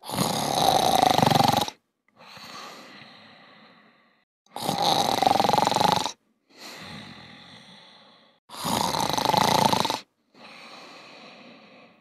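A cartoon man asleep under a tree snores loudly in three long, rasping inhales, each followed by a softer wheezing exhale, evenly spaced and close up.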